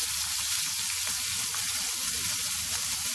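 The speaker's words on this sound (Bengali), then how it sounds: "মাছগুলোকে ভেজে নিব।" Rui fish sizzling on a flat tawa, a dense, loud hiss of frying oil that runs steadily without a break and with no voices over it.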